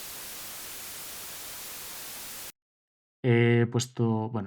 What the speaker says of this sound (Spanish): en el penúltimo voy a poner, por ejemplo, ruido blanco